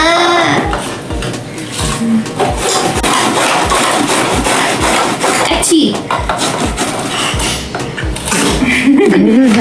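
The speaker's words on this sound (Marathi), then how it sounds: "लौकी किसून घेते।" Bottle gourd is rubbed against a grater for thalipeeth, a repeated rasping scrape in a steady rhythm of strokes with occasional clinks of kitchenware, close up in a home kitchen.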